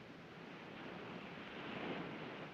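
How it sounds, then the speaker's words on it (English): A soft, steady wash of ocean surf rolls on at a distance, a broad hiss that swells slightly toward the middle with no voices. "You like the sound of the ocean?"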